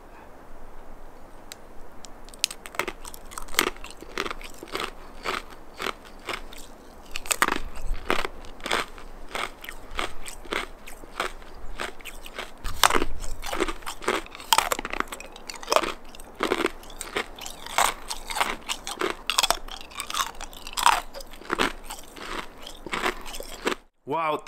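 An icicle is bitten and chewed up close, producing a dense run of sharp, crackling crunches that continue steadily for about twenty seconds.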